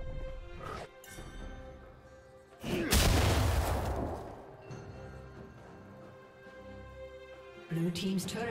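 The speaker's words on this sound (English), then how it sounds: "Blue team's turret has been destroyed." A turret being destroyed in the video game League of Legends, a top-lane Darius versus Teemo match: a loud, broad crumbling blast around the middle stands out over busy game sounds and music, with scattered smaller impacts before and after.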